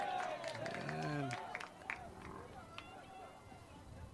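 Spectators at a 2023 CIML high school boys soccer match between Ankeny and Waukee erupt in a loud, brief crowd roar and cheer that fades after about a second and a half, with voices carrying over it.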